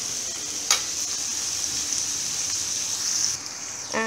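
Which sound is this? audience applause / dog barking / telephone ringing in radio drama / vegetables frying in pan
vegetables frying in pan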